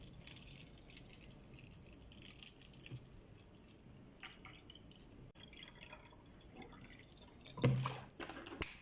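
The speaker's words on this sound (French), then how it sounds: "Et vous aurez besoin d'un spray dans lequel vous allez mettre votre vinaigre. Vous le remplissez." Vinegar is poured into a plastic spray bottle, giving faint, steady dripping and trickling of liquid at close range with no talking, followed by a louder splash or clunk near the end.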